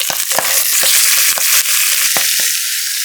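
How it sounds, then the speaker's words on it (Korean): Pork belly frying skin-side down in oiled stainless steel pot, a loud, steady sizzle with crackling pops throughout, no talking. "그 다음 삼겹살 껍질 쪽으로 먼저 넣어주세요."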